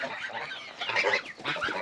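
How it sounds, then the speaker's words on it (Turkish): Chickens cluck in a poultry coop at a farm near Çubuk, Ankara, a close, busy overlapping chatter of clucks and squawks through the whole short moment, with no speech. "iki de tavuk çıkmış."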